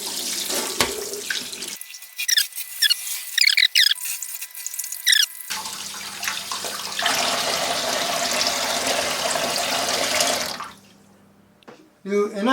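Tap water runs steadily over a bass being washed in a home kitchen sink, a loud hissing stream with squeaky handling sounds, broken by a quieter pause, the flow later cut off.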